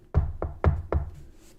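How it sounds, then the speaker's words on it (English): Four quick knocks of knuckles on a real wooden desk, close and hollow-sounding, in an uneven rhythm within about a second. "Knocking on wood for you. I have a real wooden desk right here."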